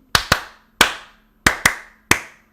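Sharp, close hand claps in an uneven rhythm, six in all, grouped in quick pairs and single claps with silence between, imitating a team clapping in unison as it walks out in single file.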